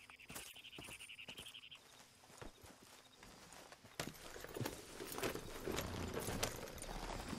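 A horse in Red Dead Redemption 2, hooves clip-clopping in an irregular walking rhythm, quiet and close, with a brief tonal chime early on and busier rustling movement later.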